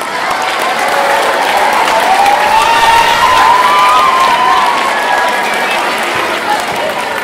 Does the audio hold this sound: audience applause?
yes